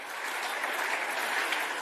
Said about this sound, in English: A round of applause for the fam